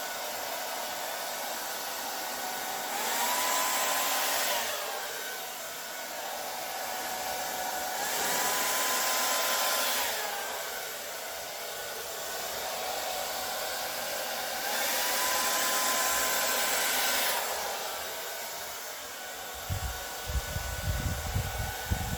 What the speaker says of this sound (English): Now we get the blow dryer.